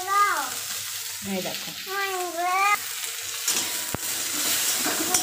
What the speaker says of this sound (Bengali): উচ্ছেগুলো ভাজা হবে